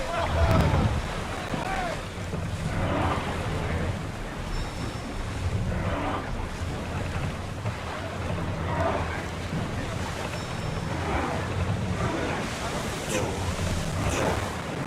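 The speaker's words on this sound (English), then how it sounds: "Ready to sail! The helm's all yours" A sailing ship out on the open sea in the game Assassin's Creed Odyssey, with steady washing waves and wind rushing across the hull, a constant wet roar throughout and faint voices underneath.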